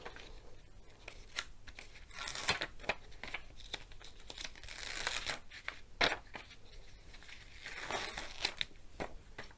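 Release paper is peeled off the glue of a diamond painting canvas, giving repeated crinkling, papery tearing rustles in irregular bursts, close and fairly quiet.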